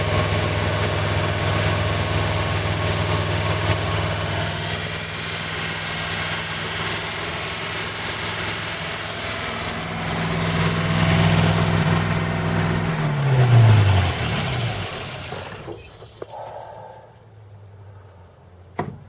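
1940 Buick straight-eight engine running for the first time in 30 years, a steady loud idle that swells and drops in pitch as it winds down, then cuts out, leaving quiet.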